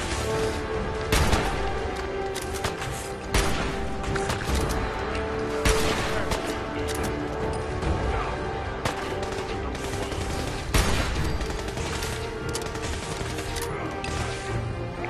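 Repeated gunfire and crashing impacts from Fallout 4 combat, loud sharp shots scattered irregularly over a busy, steady background of game sound.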